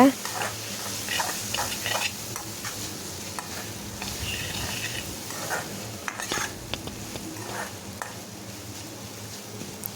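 Small chopped tomatoes frying with okra in a pan, a continuous crackling sizzle broken by repeated scrapes and clinks of a utensil while stirring.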